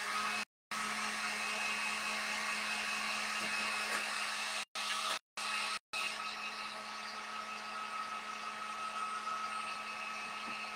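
An electric hair dryer blows a steady, whirring stream of air over a freshly painted pink dough heart, close and continuous, cutting out briefly a few times before running on.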